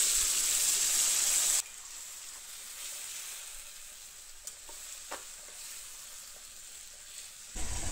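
Mutton dropped into a hot pan of oil with cloves, cardamom, cinnamon and sugar, then a splash of bowl-rinse water: a loud hissing sizzle first, easing to a steady, quieter frying crackle with occasional stirring clinks.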